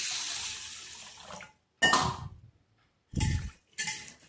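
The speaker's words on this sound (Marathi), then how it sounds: "तर ही तुरीची डाळ दोन तीन पाण्याने धुवून घ्यायची आहे" Toor dal (pigeon pea lentils) being rinsed in water in a vessel: a few separate splashy, sloshing bursts with clinks of the pot and short pauses between.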